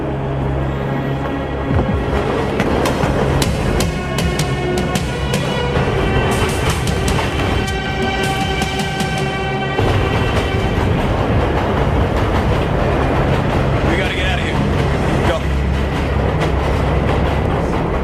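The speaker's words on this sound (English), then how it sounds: "This is the train." A train rumbles past on the tracks, loud and close, with heavy low roar, rhythmic wheel clatter and ringing metallic tones running steadily through the whole passage, with no voices.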